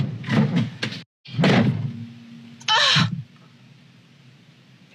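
A door is shut: several close, heavy thumps and bangs, then a brief rattling clatter, before the room settles into quiet background noise with no voices.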